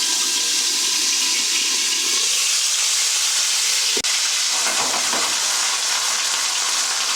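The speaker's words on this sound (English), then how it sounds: "as you add the beans, you might want to use a pan cover or some kind of cover or top to avoid all the splatter that's about to happen" Beans hitting a hot pan set off loud, sustained sizzling and spattering, a dense hiss that stays strong throughout, with a sharp clank partway through.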